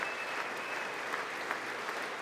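Sustained applause at a State of the Union address, faint and distant, an even wash of many hands clapping throughout.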